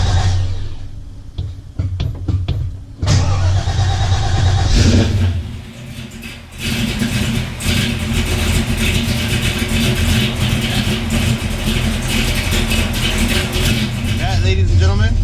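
A 1966 Chevelle SS with a 396 cubic inch big block Chevy V8 cranks in short bursts, then catches and settles into a loud, steady, rumbling idle close by.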